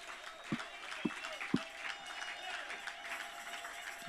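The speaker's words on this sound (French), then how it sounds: "Donnons une acclamation au Seigneur." Church congregation applauding and cheering during a French-language sermon on angels, a soft steady wash of clapping with a few sharper thumps, at a moderate distance and fairly faint.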